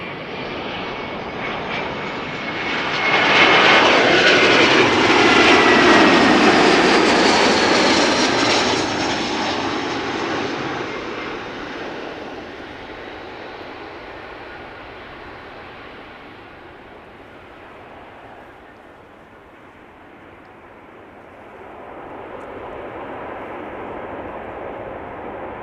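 An Air Canada Airbus A321 jet arriving at Amsterdam Schiphol Airport passes close overhead with a loud, broad engine roar that swells, peaks, and then slowly fades into a long, distant rumble.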